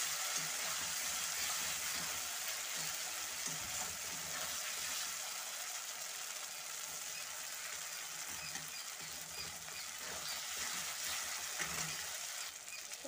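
Spice masala with cumin powder sizzles and crackles in hot oil in a pan while cooking a morola fish curry with potato and tomato, a continuous soft hiss with faint stirring scrapes throughout.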